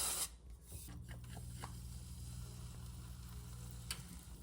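Pancake batter frying in a hot pan gives a steady, close sizzle that continues alone throughout, with a few soft scrapes and clicks near the start.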